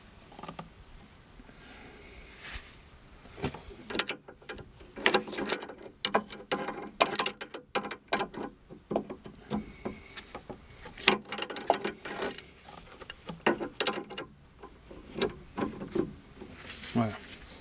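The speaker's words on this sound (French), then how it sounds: "on vient prendre le contre-écrou avec une clé à molette. Et puis, on va serrer" An adjustable wrench tightens a lock nut on a car's tie rod end, giving irregular metallic clicks, ratcheting scrapes and clunks at close range, with a person speaking intermittently over the work.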